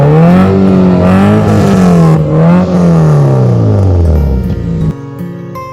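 A car's exhaust note rises and falls as the engine is revved repeatedly, loud and close, with the pitch climbing and dropping over several seconds before settling to a lower idle near the end.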